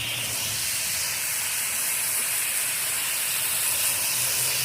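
A steady, loud hiss of spray is aimed at an HVAC condenser coil, continuing without pause at close range, with no talking.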